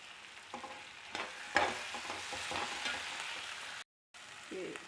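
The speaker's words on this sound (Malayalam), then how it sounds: "കറിവേപ്പില, ഇഞ്ചി, വെളുത്തുള്ളി, പിന്നെ കുരുമുളക്, പട്ട, ഗ്രാമ്പു, പെരുംജീരകം, നല്ല ജീരകം ഒക്കെ കുറേശ്ശെ ഇട്ടിട്ട് ചതച്ചത് ചേർക്കാം." Crushed curry leaves, ginger, garlic, black pepper, cinnamon, cloves, fennel and cumin fry in a pan for a chicken roast. A soft, steady sizzle runs under scraping stirring strokes, then stops briefly.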